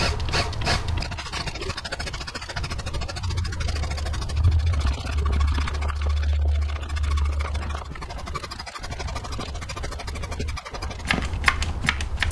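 An Eaton M90 supercharger snout on a GM 3.8L 3800 Series II/III V6 is having its oil drawn out with a hand pump, giving a steady scratchy, rasping stream over a low hum that runs unbroken and fairly close.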